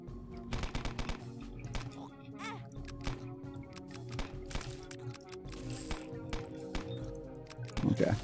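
Rapid bursts of gunfire from a modded Binding of Isaac Repentance game crackle through the whole stretch, dense and loud over game music, with a heavier flurry near the end.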